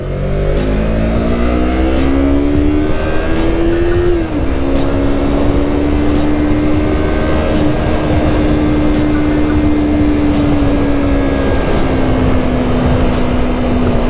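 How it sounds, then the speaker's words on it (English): A 2020 Yamaha YZF-R3 300cc motorcycle cruising on the highway, its engine holding a loud steady drone with a slight pitch dip and recovery, thick wind rush throughout. "how does the tiny 300cc Yamaha R3 do on the highway?"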